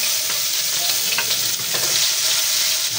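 Chopped garlic sizzles in hot cooking oil while being stirred, a bright, dense crackle that stays close and constant with occasional scraping stir sounds and no voices.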